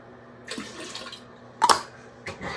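Running tap water rinses a bird's dish in a sink, a steady splashing stream with a couple of louder clatters and splashes as the dish is moved under the flow.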